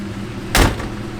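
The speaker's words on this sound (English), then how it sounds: "Doors open and shut real good." A 1963 Ford F100 pickup door swings shut with a single loud, close slam, alone against a quiet background.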